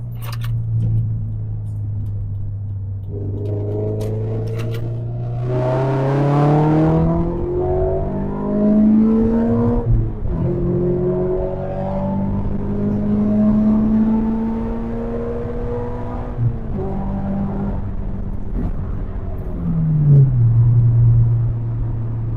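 A Toyota GT86 sports car engine drones and rises through several gear changes while driving, steady revving climbs followed by brief dips, heard from inside the cabin.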